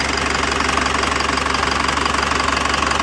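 A diesel engine idles with a sticking number one injector, producing a loud, close, steady rhythmic knocking clatter over a continuous low rumble.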